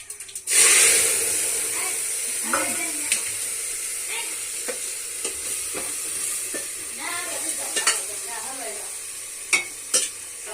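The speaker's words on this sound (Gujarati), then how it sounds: "આજે શાક વઘારું" Vegetable curry is tempered in a pan, bursting into a loud hiss and sizzle that settles into a steady fry, with scattered clinks and scrapes of stirring and faint voices in the background.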